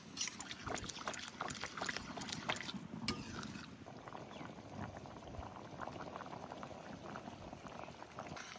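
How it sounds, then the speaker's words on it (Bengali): Chickpea dal with young jackfruit cooks in a pot, giving a close, continuous bubbling simmer with some clinks and liquid sloshing early on before settling into a steady boil. "এবার ডাল দিয়ে দেবো। এবার টান করে ভালো করে জাল দেবো।"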